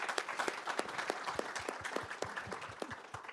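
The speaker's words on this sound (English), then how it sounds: "Round of applause, please." An audience at a tech conference gives a round of applause, a faint, moderately dense patter of claps with individual hands standing out, distant and alone.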